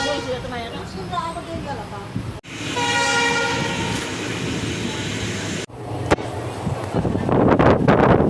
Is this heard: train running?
yes